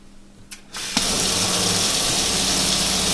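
Kitchen tap on a self-sufficient home's own pump-fed water supply at about 5 bar, first a short pump hum and splash, then water gushing steadily and loudly into the sink.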